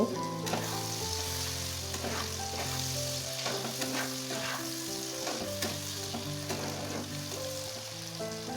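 Rohu fish oil frying hard in a pan, a dense continuous sizzle with crackling pops and occasional stirring scrapes, loud and close, with no voices.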